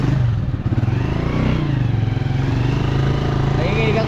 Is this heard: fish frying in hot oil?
no